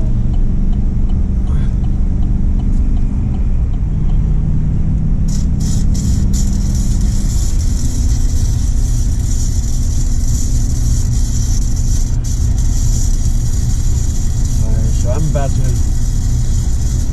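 Car driving in traffic beside a minivan and a truck, with steady low road and engine rumble throughout and a brief higher hiss midway; a voice talks over it.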